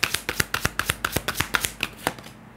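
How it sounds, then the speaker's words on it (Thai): Tarot cards for a love reading are shuffled and drawn in quick, crisp riffles, about a dozen sharp papery snaps in a steady rhythm, close and clear with no voices. "ขอไพ่แนะนำ5ใบให้กับความรักครั้งนี้ค่ะ"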